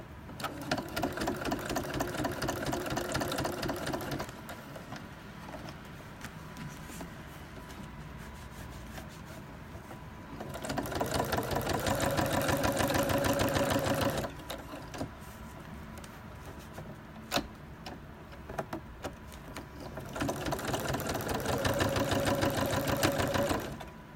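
Sewing machine topstitching the top edge of a crossbody bag, running in three steady, close bursts of rapid needle stitching separated by quieter pauses.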